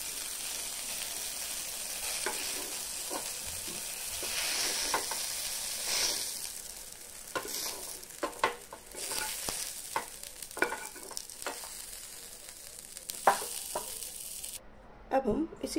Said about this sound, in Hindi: गैस की फ्लेम को मीडियम फ्लेम में रखकर इसको पलट पलट कर अच्छे से भून लेना है।